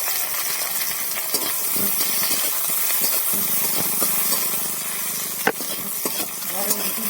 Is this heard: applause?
no